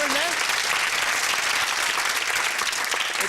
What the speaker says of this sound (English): Round of applause for Corinne!